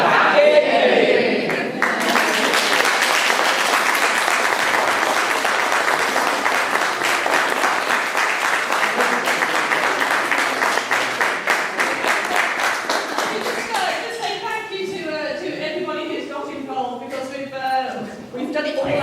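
An audience bursts into sustained applause at the end of a mummers play, dense clapping that holds for many seconds, then thins into scattered claps as voices begin talking over it.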